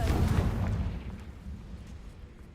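A Confringo blasting spell bursts in Hogwarts Legacy, a loud booming explosion at the start that rumbles and fades into a low lingering roar.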